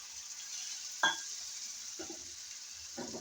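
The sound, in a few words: spice masala being fried and stirred in a pan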